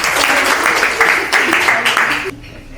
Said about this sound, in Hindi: जोरदार ताली बजा दीजिए उनके लिए।